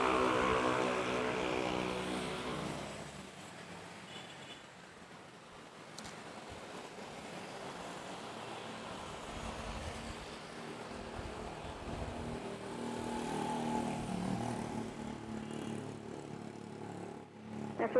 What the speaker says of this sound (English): Okay, we have the Eva Air pushing back.